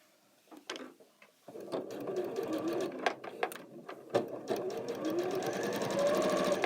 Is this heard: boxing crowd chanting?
no